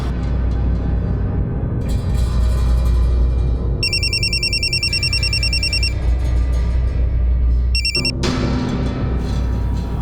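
A phone ringtone rings in two bursts of repeated high electronic trills over steady low background hum, with no talking.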